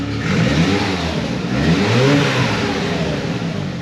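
Close and loud, a 2004 Saab 9-3 Aero fitted with a new exhaust revs up and down, the engine note swelling and falling in throaty blips over a steady idle.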